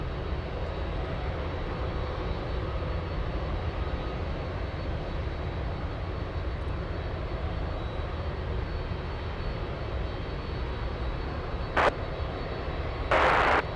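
An airliner on takeoff roll from runway 33 at Anchorage gives a steady, loud, broadband engine roar that holds throughout, with two brief sharp bursts near the end.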